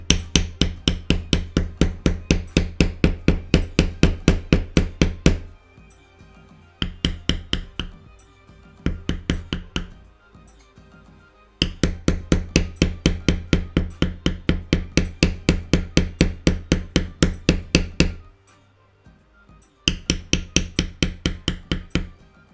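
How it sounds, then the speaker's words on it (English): Leather edges being beveled for cosplay armor shoulders and backplate: fast, evenly spaced scraping strokes in long runs, separated by short pauses and quieter handling, close and fairly loud. "When you're beveling, you can go over the same areas multiple times to help smooth it out"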